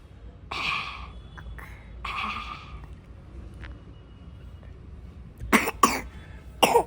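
A child coughs a few times in short bursts, with breathy exhales early on and sharper, louder coughs near the end.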